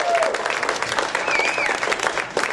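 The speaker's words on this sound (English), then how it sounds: "give yourselves a round of applause for coming out" A live comedy show audience in Las Vegas breaks into steady, dense applause, close and loud, with a few whoops over the clapping.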